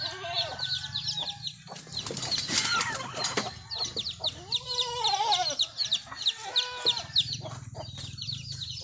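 Free-ranging farm chickens cluck and squawk up close in a busy, overlapping chorus, with brief louder bursts of calls and rustling among them.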